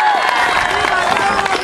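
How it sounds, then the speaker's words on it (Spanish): A school crowd applauds and cheers at the inauguration of a basketball court at a secondary school in Oaxaca, a short dense burst of clapping mixed with voices. "Aplausos, fuerte que se escuche."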